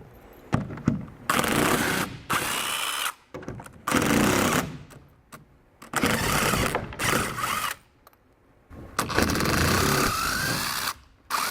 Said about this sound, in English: you can go ahead and remove these cross braces by the lag bolts on either side